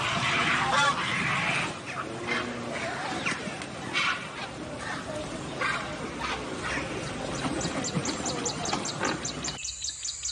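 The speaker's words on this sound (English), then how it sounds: "Pelican, pelican." A pelican calling with hoarse, honking cries, repeated several times at a fairly loud level, alone without talk.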